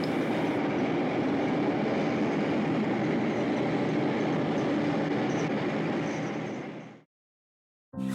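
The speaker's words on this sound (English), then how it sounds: "It's the Santa Fe Super Chief El Capitan arriving at the depot in 1970." The 1970 Santa Fe Super Chief El Capitan passenger train rumbles steadily and loudly past at close range arriving at San Bernardino depot, a broad continuous roar with faint wheel clatter, then cuts off abruptly.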